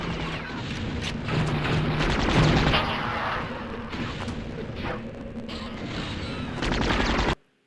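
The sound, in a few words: Thumper weapon explosion in a 90s PC video game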